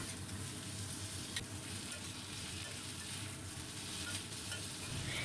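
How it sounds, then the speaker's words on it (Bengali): Cut potatoes frying in a pan with onions already reddened in oil, for a Bengali fish chorchori. A steady close sizzle continues throughout with occasional stirring scrapes and no voices. "একটু লাল লাল করে পেঁয়াজগুলো ভেজে এবার কেটে রাখা পুরো আলুটা দিয়ে দিলাম। একটু সময় ধরে আমি এটাকে ভাজবো।"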